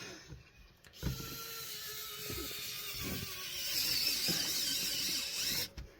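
Screws are driven slowly into the gearbox of an RC car during a repair, giving a close, continuous whirring and ratcheting mechanical sound for about five seconds with faint clicks before and after.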